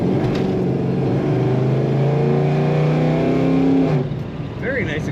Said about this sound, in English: Very nice acceleration in this car.